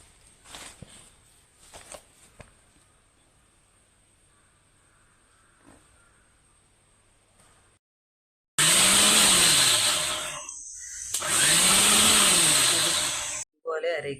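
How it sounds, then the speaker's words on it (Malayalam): A kitchen mixer grinder grinds half a coconut in two loud, close whirring bursts with a brief stop between them, after a quiet stretch of light clicks and handling sounds. "ഒരു അരമുറി തേങ്ങ പകുതി അരവിൽ അരച്ചെടുക്കാം"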